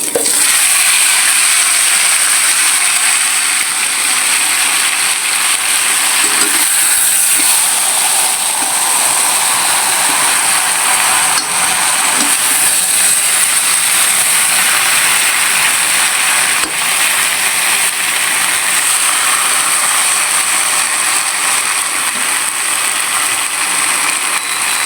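Pieces of shol fish fry in hot oil, giving a loud, steady hiss and crackle that continues unbroken throughout.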